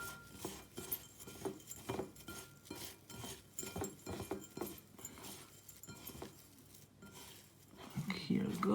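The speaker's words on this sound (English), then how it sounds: "now all you need to do is dump everything into your mixed container and mix it all together" Succulent potting soil mixed by hand in a container, giving a steady run of scraping, rustling and stirring sounds with light clatter. A faint voice is heard in the background.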